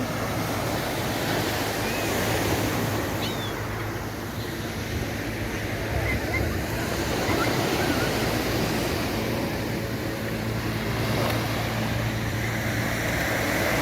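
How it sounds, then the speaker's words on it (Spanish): Calm sea waves at Playa del Carmen beach, a steady, even wash of surf mixed with breezy wind noise throughout, continuous and moderately loud, without speech. "El mar está muy tranquilo,"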